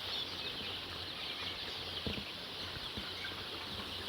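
Ambient chatter from a large flock of about 6,000 ten-day-old broiler chickens on a poultry farm, a steady low murmur of clucking with a few brief louder flaps and bumps.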